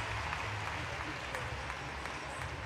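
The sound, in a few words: crowd cheering after gymnastics routine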